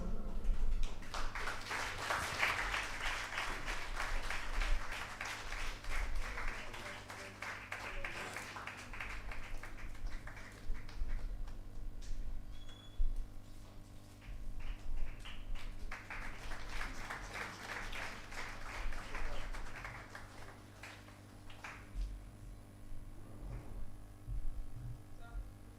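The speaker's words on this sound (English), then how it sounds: "let us witness or celebrate this special moment with a round of applause" Sustained audience applause at a book launch during a finance summit in Manjeri, a dense clapping wash lasting about twenty-five seconds that swells and eases in waves over a steady low hum.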